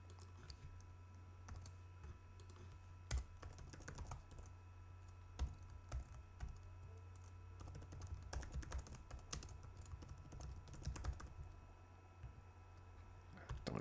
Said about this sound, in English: So let's just type in polarity.